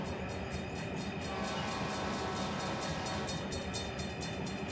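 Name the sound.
train passing on tracks in Run 8 train simulator game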